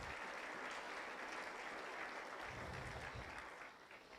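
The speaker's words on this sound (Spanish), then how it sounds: "Dale palmas a Jesús." A church congregation applauds during a sermon, a dense, steady wash of many hands clapping that holds evenly and then thins out near the end.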